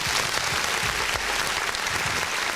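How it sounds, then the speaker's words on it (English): Steady applause from an audience, a dense wash of clapping hands that keeps an even level throughout. "We just have to give these guys a round of applause"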